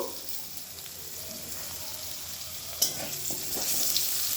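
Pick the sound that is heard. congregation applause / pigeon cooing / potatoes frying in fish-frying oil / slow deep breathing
potatoes frying in fish-frying oil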